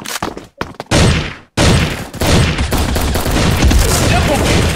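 Rapid automatic gunfire in the video game Bullet Angel, loud, close bursts broken by brief gaps, then sustained continuous firing with dense impacts.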